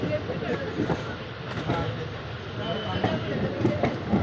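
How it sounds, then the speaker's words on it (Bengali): A train pulls out of Haflong railway station and rolls along the rails: a steady close rumble with faint, irregular wheel clicks. The sound is continuous and moderately loud throughout. "এখান থেকে সোজা আমাদের ট্রেনটি ছেড়ে দিয়েছে।"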